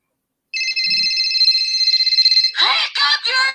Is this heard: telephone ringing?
yes